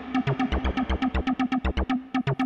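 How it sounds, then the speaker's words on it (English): A Roland TB-303 bassline plays a fast, rhythmic sequence of squelchy, distorted synth notes with reverb added, loud and alone with no drums or voices. "Reverb on the TB303."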